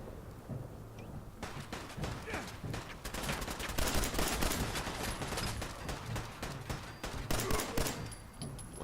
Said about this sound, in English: Oh, okay, they're shooting at me.